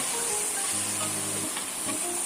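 Rice noodles stir-fried with soybean paste and dark soy sauce in a hot pan give off a steady, loud sizzle with occasional stirring scrapes and no voices.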